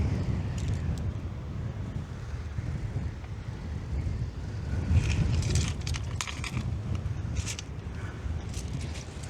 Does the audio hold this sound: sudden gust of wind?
yes